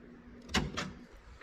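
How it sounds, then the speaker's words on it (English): Custom-wired power door locks in an M-1 Cobra kit car actuating, giving two quick mechanical clunks about a quarter second apart, moderately loud and close, with a faint electrical hum underneath. "There's my door locks."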